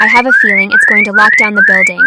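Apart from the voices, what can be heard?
building alarm sounding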